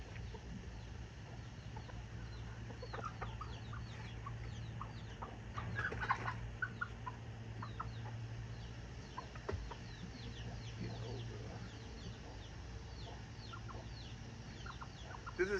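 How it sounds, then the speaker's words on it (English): An old hen named Diamond clucks softly in a garden, with scattered quiet calls over steady low background hum, and a few brighter bursts near the middle. "She's my oldest chicken."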